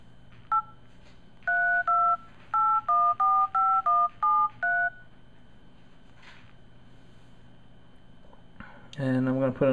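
Touch-tone dialing beeps from an HTC Android phone placing a call: a single tone, then a quick run of about a dozen clear, evenly spaced keypad tones, a faint pause, and a brief burst of ringing or connection sound at the end.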